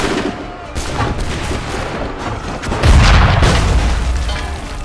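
A cannon or gunfire shot booms in Assassin's Creed III amid redcoat combat, with a heavy low blast near the three-second mark over a dense, continuous battle din.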